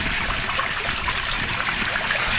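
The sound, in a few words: water filling an aquaponics fish tank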